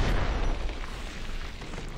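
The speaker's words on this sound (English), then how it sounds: "All these goddamn grenades." Grenades burst in Fallout: New Vegas, Lonesome Road, a loud rumbling explosion that fills the moment and then trails off into a lingering roar.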